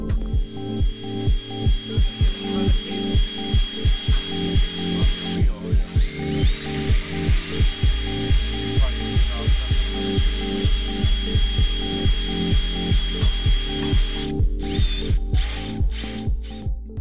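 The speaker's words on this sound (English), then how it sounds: "Round CNC Lathe Machine." A small round CNC lathe machine runs steadily, its motor driving a rapid, regular mechanical clatter with repeated ratcheting pulses, loud and close, with a few short breaks near the end and no voices.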